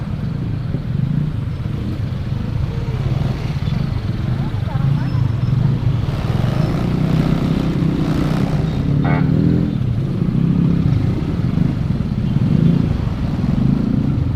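A Yamaha Aerox motorcycle rumbles along continuously as it rides at night, with rattling clatter from a loose license plate and wind noise, and a voice speaks briefly over it.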